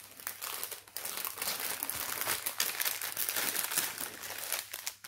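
Plastic bags of diamond painting beads crinkle and crumple up close as they are pulled open with some effort, producing a busy, irregular rustling with sharper crackles throughout.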